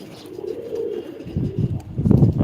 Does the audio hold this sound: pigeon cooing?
yes